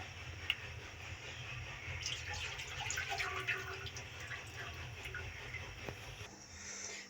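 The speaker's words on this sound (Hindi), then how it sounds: "सबसे पहले मैं चूल्हा ऑन करूंगी और इसमें मैं डालूंगी 2 कप दूध।" Two cups of milk poured into a pot on a stove, a steady close liquid pour with faint trickling over low hum, no talk.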